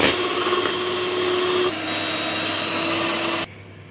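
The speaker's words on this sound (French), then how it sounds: "je vais passer au blanc d'œuf que je vais monter en neige. Donc je vais utiliser mon batteur électrique" An electric hand mixer whips egg whites with a loud, continuous close-up whine that shifts pitch slightly midway and then cuts off abruptly near the end.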